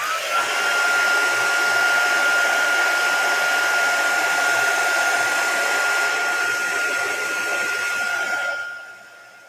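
A heat tool blows steadily at close range over wet ink on a craft project, a loud continuous whooshing hum with a thin whine that runs for about eight seconds before cutting off.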